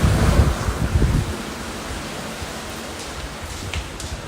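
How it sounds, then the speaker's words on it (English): Heavy rain pours outside in a broad, rushing wash that swells with gusty low rumbles at first, then settles into a steady hiss. No distinct thunderclap stands out. "It's pouring and it's lightning, it's thundering"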